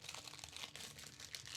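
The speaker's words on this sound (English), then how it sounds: "I'm making crunchy ASMR noises because I'm eating gummy bears while I stream." Quiet, crisp crunching and crinkling from someone chewing gummy bears near a microphone while streaming, a rapid irregular texture heard alone without talk.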